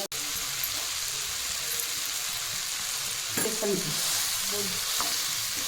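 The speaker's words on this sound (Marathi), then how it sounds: "सर्व आंबा याच्यामध्ये टाकून घेतला मी आणि नंतर आता व्यवस्थित हलवून घेते" Mango pieces for gulamba being stirred in a pan, a steady sizzling hiss with occasional scraping and clinks of a spoon against the metal, continuous and close, no talking.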